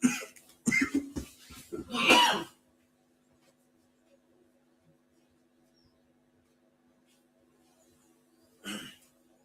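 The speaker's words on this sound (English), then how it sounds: "As you talk, you will have what is called the dry cough." Dry cough from a person speaking during a live stream: a burst of several harsh coughs up front, then near silence, then one more short cough near the end.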